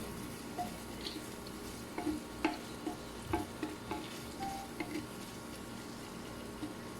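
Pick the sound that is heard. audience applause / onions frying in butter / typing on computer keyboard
onions frying in butter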